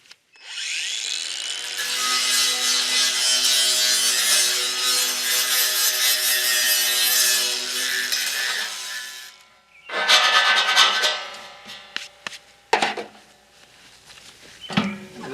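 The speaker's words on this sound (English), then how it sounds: "a sanding disc works pretty well for this," A sanding disc deburrs the sharp edges of freshly cut metal pipe during high tunnel construction, producing a long steady grinding rasp for about nine seconds, followed by short, uneven scraping bursts.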